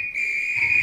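A loud, steady train whistle in the Roblox game Stepford County Railway sounds as one sustained piercing tone with faint background noise beneath.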